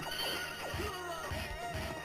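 A horse in a video game whinnies several times, bright and fairly close, with faint background sound and light hoof clatter.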